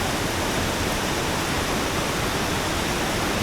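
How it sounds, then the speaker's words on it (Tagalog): Heavy rain pours in a dense, unbroken hiss, loud and close, with no gusts of wind or voices over it. "lalong lumakas ang ulan"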